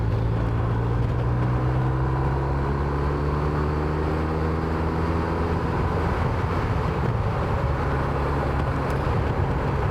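A BMW R1250RS motorcycle rides on a road, its engine droning loudly and steadily with shifting pitch as it accelerates, while wind rush buffets the microphone throughout.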